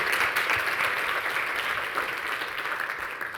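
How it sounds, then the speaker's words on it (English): Dense audience applause at a sustainability conference's opening session, a steady wash of many hands clapping throughout. "So a big round of applause for all of us for, after 5 years, getting to this point."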